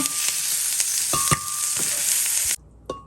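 Steady, loud sizzling of chiles, tomato and tomatillo frying in hot oil, with a few clinks, before the sizzle cuts off abruptly near the end.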